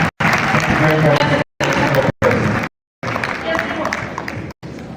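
Audience in a lecture hall applauding as a professor enters, a dense burst of clapping broken by several abrupt cuts, with voices mixed into the crowd noise.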